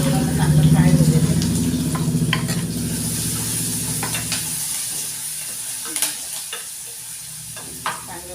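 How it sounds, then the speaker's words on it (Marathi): Chopped onion and curry leaves hit hot oil with cumin and mustard seeds in a pan for chana masala, giving a loud, dense sizzle that fades to a softer hiss, with a few stirring clinks and a voice speaking over it. "आता कांदा टाकते आणि लगेच कढीपत्ता पण टाकून देते. दोघांना चांगलं फ्राय होऊ देते."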